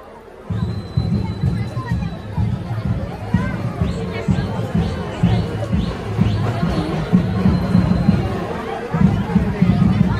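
A Sunday crowd queued at a temple makes a dense, continuous murmur of many voices, with hubbub and chatter near and far and some cheering rising through it.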